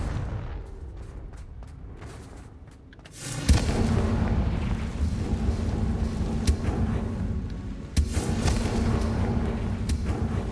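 A Confringo spell explosion in Hogwarts Legacy, bursting with a sudden loud boom that gives way to a sustained rumbling roar, followed by another sharp blast several seconds later.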